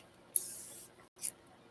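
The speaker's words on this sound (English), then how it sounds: "let's spray some alcohol" Two hissing bursts of alcohol spray close up: a longer spray of about half a second, then a short second burst after a brief pause.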